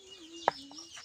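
Chickens walking about a home kitchen area give a single short, sharp cluck close by, with faint calls after it over a quiet background.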